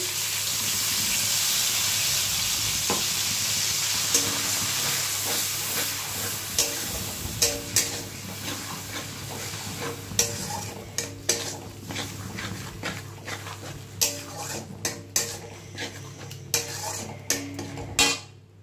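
Spice paste of ground coriander, cumin, tomato and ginger added to a hot pan, a steady hiss and sizzle at first, then increasingly sharp clinks and knocks of a spoon against the pan as it is stirred.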